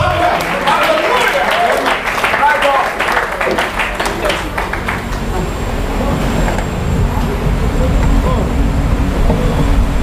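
Applause from a church congregation during a sermon, a dense crowd of clapping at first that fades into a murmur of voices and room noise.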